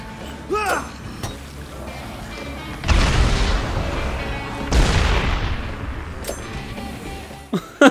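Grenade explosions in Dead Rising 3 video game play, two loud booming blasts a couple of seconds apart with long rumbling decay, amid quieter game sounds and brief distant talk.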